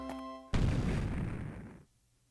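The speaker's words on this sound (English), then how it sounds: "What was that? An explosion? That noise came from the basement." Explosion in the video game Pokemon Ranger Shadows of Almia: after a short tonal game chime, a sudden broad booming blast erupts and rumbles on for over a second before cutting off, fairly quiet overall.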